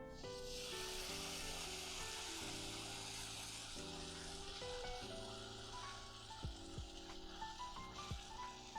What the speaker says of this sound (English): So just going to put the bread in and cook it for about 2 to 3 minutes on each side.